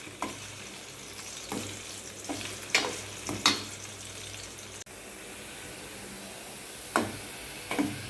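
Food fries in a little oil in a pan, with a steady close sizzle punctuated by several sharp scraping stirs at uneven intervals.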